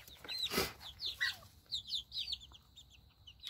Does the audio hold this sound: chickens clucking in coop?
yes